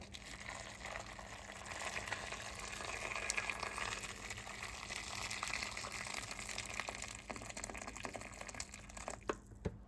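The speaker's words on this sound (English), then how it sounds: "And now I'm going to add the hot water inside there." Hot water pours steadily into a crock pot holding Jamaican stew peas with oxtail, a continuous close gushing splash that swells slightly midway and tapers off near the end, with no talking.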